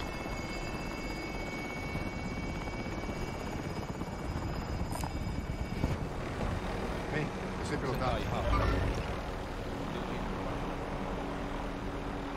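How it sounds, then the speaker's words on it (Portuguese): A helicopter's rotor in Call of Duty: Modern Warfare thrums steadily in the foreground, a constant whirring drone with a brief low thump near the end; a voice speaks occasionally in Portuguese under it. "Helicóptero em posição."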